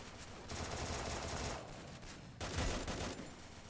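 AN94 rifle fire in the mobile shooter Free Fire: rapid sustained bursts of automatic gunfire, two long strings separated by a short gap, close and dense, with no talk.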